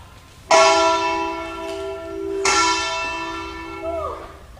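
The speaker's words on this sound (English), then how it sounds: "Ring the bell!" A large bell rings twice during a stage performance of Macbeth in a church, each loud clang sustaining and slowly decaying, with the second strike about two seconds after the first.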